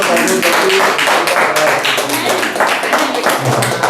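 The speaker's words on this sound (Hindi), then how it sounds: "मैम को ताली बजा के प्रोत्साहित करो।" Children clap for a teacher in a classroom, a dense, continuous patter of many hands mixed with voices.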